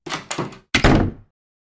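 An unlocked door opens with a cluster of close rattling clunks, then a heavier thud, all within about a second. Silence follows.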